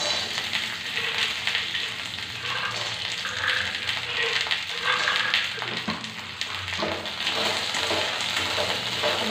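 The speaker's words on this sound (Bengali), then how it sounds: "বাদামটাও ভালো করে ভাজা হবে।" Peanuts frying in hot oil in a wok along with curry leaves, giving a steady loud sizzle with occasional stirring scrapes throughout.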